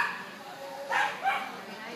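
A poodle gives two short, fairly light barks about a third of a second apart, moderately close, over quiet room background with no voices.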